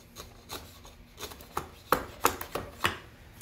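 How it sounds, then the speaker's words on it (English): A chisel pares and scrapes wood clean in a string of short, close, rasping strokes at a loose, uneven rhythm, growing sharper toward the end, with no talking. "you can just take your chisel and clean this up"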